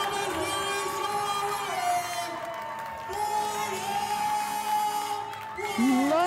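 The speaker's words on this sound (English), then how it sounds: "you can hear the appreciation from the crowd here in Denham Springs" A crowd at a Denham Springs event whoops and cheers at moderate distance, in swelling bursts of shouts and applause that mix with a commentator's voice.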